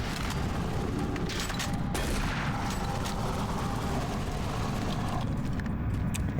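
Heavy shotgun blasts and combat noise from the video game Doom 3, a dense, continuous roar of booming fire and mechanical clatter throughout, loud and close with no voices.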